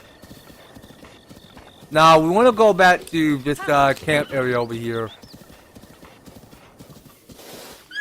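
Horse hooves clip-clop steadily in Zelda: Breath of the Wild, with a rhythmic trotting patter running throughout and someone talking over the middle stretch.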